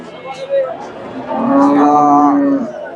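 A Friesian cow at a cattle market lets out a long, loud, drawn-out moo close by, after scattered murmuring voices and livestock-market bustle.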